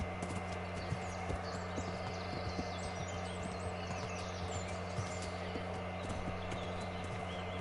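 Horse hooves clip-clopping in the medieval video game Kingdom Come Deliverance, a steady rhythmic trot of sharp hoofbeats over a constant low hum of game background sound.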